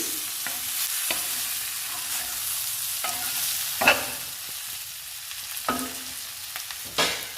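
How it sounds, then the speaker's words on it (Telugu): Mint, tomato and green chillies sizzle in a pan while a spoon scrapes and stirs in intermittent strokes, close up with no talking. "పుదీనా, టమాటో, పచ్చిమిర్చి అన్నీ ఫ్రై అయినాయండి."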